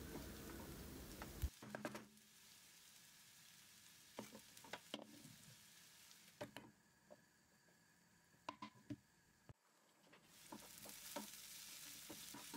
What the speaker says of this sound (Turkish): Üzerine doğradığım patlıcanları ekliyorum ve birlikte kavurma işlemine devam ediyorum.